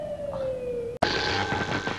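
Ambulance siren sound effect: a steady wailing tone holds for about a second, then cuts abruptly to a brief silence before a louder, noisier burst of siren and rumble returns.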